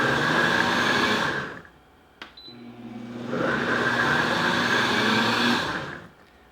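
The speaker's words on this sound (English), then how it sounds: "And I normally just use the pulse on my blender." A blender pulses pie batter for an Impossible Pie in two loud whirring bursts of about one and a half and three seconds, separated by a short pause with a click as it stops.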